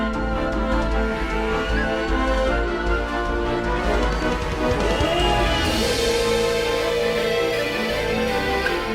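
Dense orchestral-style music plays continuously at steady loudness, with sustained layered harmonies and a brightening swell partway through, no voices present.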